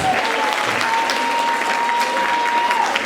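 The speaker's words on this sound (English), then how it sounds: "big round of applause to the performers, please." An audience claps loudly and steadily for a group of dance performers after a mashup routine, a dense wall of applause with a few cheers that holds for about three seconds.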